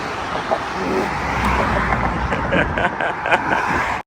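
A car with a charging fault running after a larger replacement battery was installed, its engine humming steadily at the roadside near an expressway amid passing traffic, with brief knocks and clicks before it cuts off abruptly.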